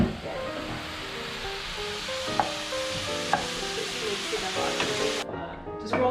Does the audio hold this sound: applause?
no